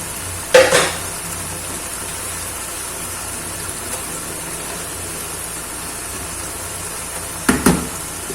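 Chicken tikka tipped into tomato masala sizzling in a karahi, with two sharp clattering bursts as the pieces land, a steady low frying hiss between them.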